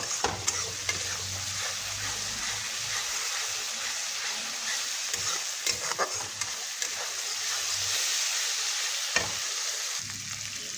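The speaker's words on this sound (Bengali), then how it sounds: "মশলাটাকে খুব ভালো মতো ভাজা ভাজা করে নিতে হবে" Spice paste fries in oil for a jackfruit ghugni, a continuous sizzle with repeated scraping stirs of a spoon against the pan, close and steady, no talking.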